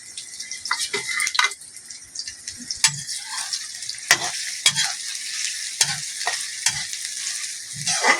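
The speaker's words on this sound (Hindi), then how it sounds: "और तेल गरम हो गया और अब मैं छोड़ूंगी इसमें प्याज" Onions hitting hot oil and frying with a steady loud sizzle, broken by repeated stirring scrapes and clinks of a utensil against the pan.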